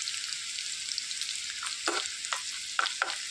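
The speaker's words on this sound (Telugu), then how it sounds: "ఈ ఆనియన్స్ని ఇట్లా వేయించుకోవాలి, వేయించి పక్కన పెట్టుకోవాలి" Chopped onions fry in heated oil with a loud, continuous hiss close to the pan, broken near the end by a few soft stirring knocks. No one speaks.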